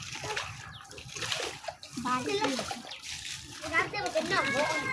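Water splashed out of a hole in the ground while children catch fish, heard as repeated near splashes and sloshing mixed with children's voices talking throughout.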